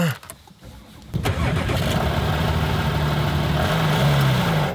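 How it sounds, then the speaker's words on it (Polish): A car engine cranks and catches, with a few clicks and a short rising whir before the motor settles into a loud, steady idle close at hand. "teraz odpal samochód!"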